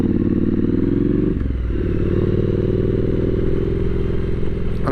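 A Triumph Street Scrambler 900 rolls along at steady speed, its engine a loud, close, continuous throb with a slight dip in tone partway through, and no talk over it.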